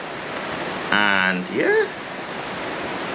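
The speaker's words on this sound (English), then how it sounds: "rain is falling at the moment" Steady rain hisses as a broad, even background wash outdoors, continuing unbroken beneath a man's brief spoken words.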